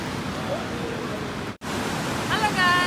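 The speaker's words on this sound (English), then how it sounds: "Look at that waterfall." A waterfall in the small Czech town of Český Krumlov gives a steady, loud broadband rush that fills the whole stretch, broken only by a split-second dropout, with faint voices around it.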